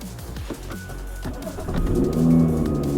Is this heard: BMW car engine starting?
yes